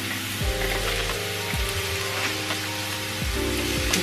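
Garlic and unsalted butter frying in a pan, a constant close sizzle with a few low knocks and scrapes as the garlic is moved around, no voices.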